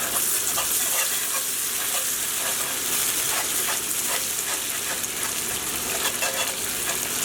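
Pecan pie filling is whisked in a pan over a flame, giving a loud, steady scraping swish with a sizzling undertone and no speech.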